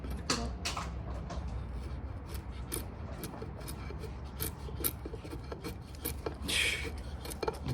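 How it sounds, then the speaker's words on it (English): A Mega RYNO Bowie knife by Wyatt Hines shaves wood up close, giving a steady run of dry rasping scrape strokes that repeat without pause, with no talking. "let's bring you up close here, do some shaving"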